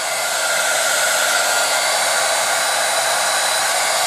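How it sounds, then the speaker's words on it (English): A heat gun blows hot air in a loud, steady, hissing rush that stays constant and unbroken for the whole span, with no voices. "right now I'm going to get my heat gun. And all I'm doing is just putting a little bit of heat"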